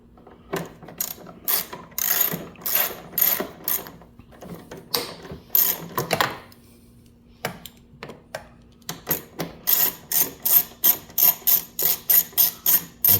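Ratchet clicking in short repeated bursts while backing screws out of the fairing on a 2018 or later Honda Goldwing, loud and close, with brief pauses between screws and no voices.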